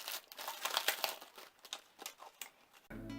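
Packaging around a Van Gogh paint palette is unwrapped with close, busy crinkling and crackling of plastic wrap, coming in uneven bursts before stopping abruptly.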